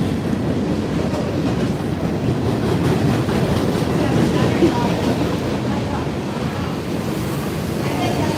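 A train rolls along an active railroad beside a river in Pittsburgh, a continuous broad rumble and rush that swells slightly midway, fairly loud and steady throughout.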